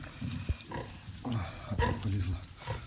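A sow grunts and snorts in a barn at night while farrowing, with low, uneven close grunts and snuffles plus a few sharper sounds, continuing for a few seconds.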